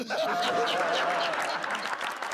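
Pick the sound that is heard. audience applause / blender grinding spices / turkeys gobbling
audience applause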